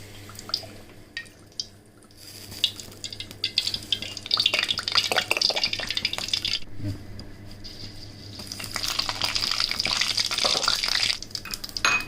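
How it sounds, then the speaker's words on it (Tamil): Cooking oil pours into a pan for a prawn fry, a wet, trickling and dripping liquid sound that builds after a few sparse clicks, with light scraping and clatter against the pan. "எண்ணெய் ஊற்றிக்கலாம்"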